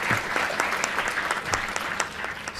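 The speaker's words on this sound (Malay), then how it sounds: "Sila beri tepukan yang gemuruh." An audience at a formal royal launch ceremony in Perlis gives sustained, even applause, dense clapping filling the hall without voices.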